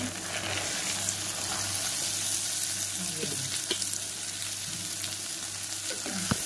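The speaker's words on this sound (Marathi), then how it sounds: "हळद तेलामध्ये घालायची" Turmeric added to frying onion and tomato in hot oil gives a dense, steady sizzle that fills the scene, with occasional spoon clinks against the pan, close by and without speech.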